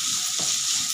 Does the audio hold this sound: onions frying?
yes